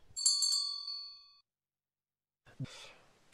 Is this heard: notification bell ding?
yes